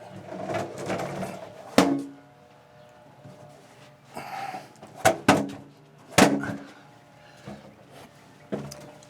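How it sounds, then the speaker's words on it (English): A work bench is shifted in several separate bumps and thuds, with knocks and scrapes spaced irregularly between quiet pauses, close by and with no talking. "Getting down, moving my bench."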